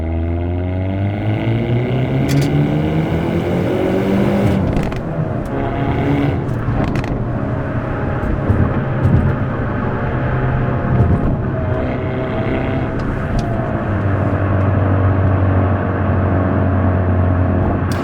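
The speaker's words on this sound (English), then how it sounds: "in its most aggressive setting, the steering and the suspension, you obviously hear the exhaust" A Hyundai Elantra N in its most aggressive drive mode, exhaust droning steadily with shifting engine tones as it drives, a continuous loud rumble with no one talking.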